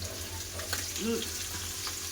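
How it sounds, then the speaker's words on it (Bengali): Potatoes with turmeric powder fry in hot oil in a wok, a constant close sizzle with a stirring scrape in the middle and faint voice traces. "আলুটা ভেজে নেব ভালো করে"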